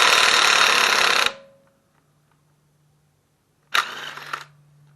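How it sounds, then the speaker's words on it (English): A cordless impact wrench with a 13/16 socket works on a sway bar link of a 2001 Toyota Camry, giving a loud hammering burst of just over a second, a pause, then a second shorter burst. "13/16 socket. I'm gonna put it on my impact here."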